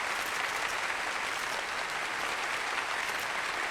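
Steady, loud applause from a large crowd in the video game Yakuza: Like a Dragon, dense and continuous clapping throughout with no voices standing out.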